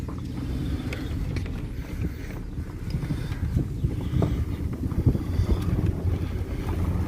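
A GMC Sierra pickup with a 4.8 engine and a swapped transmission rolls down a rough road, its low engine drone and rattling mechanisms steady under heavy wind and road noise.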